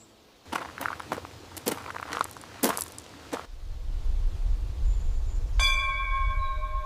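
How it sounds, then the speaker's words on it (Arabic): A bell rings in the distance with a few clear, faint tones near the end, heard over a low outdoor rumble, after a series of sharp footsteps and shuffles close by. "ده جرس فعلا."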